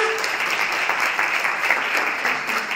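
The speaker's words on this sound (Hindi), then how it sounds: "जोरदार तालियां" Loud, dense applause from a crowd fills the whole stretch, steady and close with no pauses.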